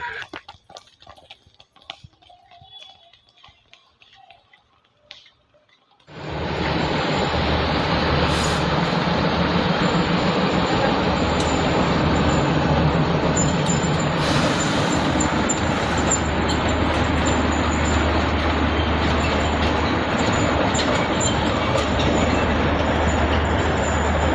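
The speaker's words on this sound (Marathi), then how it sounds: "ही होती माथेरानची मिनी ट्रेन." The Matheran mini train on its hill railway rolls past on a cold morning, arriving abruptly after a quiet start and then holding a loud, close, continuous rumble and rattle of wheels and carriages until the end.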